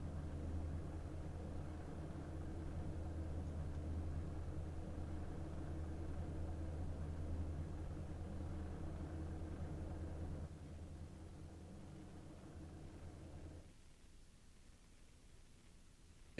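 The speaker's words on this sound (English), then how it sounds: "As you can hear the roar of those modifieds down there on pit road" Modified race cars idle and rumble on pit road at a short track speedway before qualifying, a steady low engine drone heard from a distance that drops slightly in level near the end.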